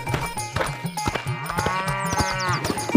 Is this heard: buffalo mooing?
yes